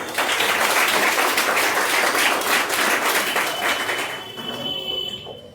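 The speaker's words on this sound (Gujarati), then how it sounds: "તમારી તાળીઓ વગર આ સેમિનારની શરૂઆત કઈ રીતે ચાલે?" A business seminar audience breaks into dense, sustained applause, many hands clapping together at full strength before the sound thins and tapers away near the end.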